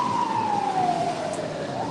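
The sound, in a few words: emergency vehicle sirens, fire trucks and ambulances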